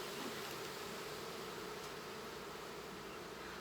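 Honeybees buzz in a dense, steady swarm during an open hive inspection, a soft continuous drone with no breaks and no voices.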